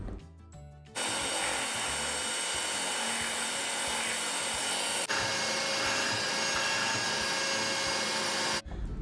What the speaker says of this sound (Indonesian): Kocok menggunakan speed tinggi sampai kental dan berjejak.